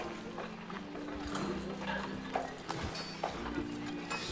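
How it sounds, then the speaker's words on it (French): Horse hooves clip-clop steadily in the medieval game The Guild 3, a rhythmic trotting over a busy ambient backdrop, with a few louder hoof knocks near the end. "Et puis, oh, il y a un cheval"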